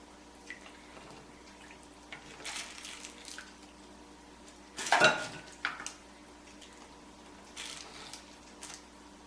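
Big chunks being scooped out of hot beef bone broth in a crock pot: soft kitchen clatter and a few faint drips, with one louder clunk of the utensil against the pot midway.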